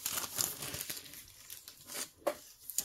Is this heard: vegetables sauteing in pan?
no